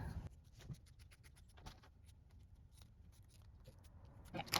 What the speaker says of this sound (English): let's go ahead and just cut out our circle